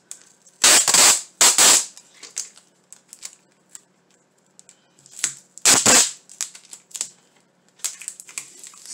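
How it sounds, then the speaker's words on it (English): Adhesive tape tugged off a roll and pressed onto a surface during an Easter craft project: several loud, ripping bursts separated by quieter ticks and small crackles, close up with no talking. "Sorry about that noise that the tape makes,"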